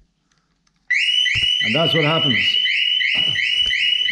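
After a second of near silence, a Harley-Davidson Sport Glide motorcycle security alarm starts abruptly and keeps going as loud, repeating electronic warbling beeps close by, while someone speaks briefly over it.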